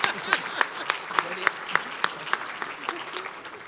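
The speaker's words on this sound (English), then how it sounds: "Please give them a round of applause." Applause at a school district State of the District event, a crowd clapping steadily with distinct sharp claps recurring in a regular rhythm over a softer background of clapping.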